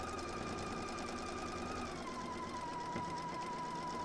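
A sewing machine runs steadily as it stitches a quilt seam, slowing over pins, with a continuous whirring hum and a slight change in pitch partway through.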